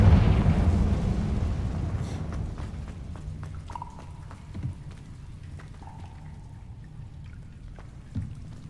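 A Confringo fire spell bursts in Hogwarts Legacy: a loud blast opens, then decays into crackling, scattered pops and faint ringing tones as the flames settle.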